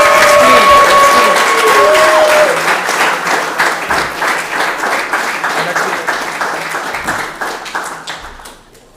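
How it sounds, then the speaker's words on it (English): An audience at a youth showcase applauds loudly, a dense wash of clapping that slowly thins and fades toward the end, with a little talk underneath at the start. "Big round of applause, please."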